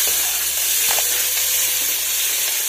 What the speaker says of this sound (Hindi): जीरा भुन चुका है, अब इसमें चॉप की हुई प्याज डाल देंगे।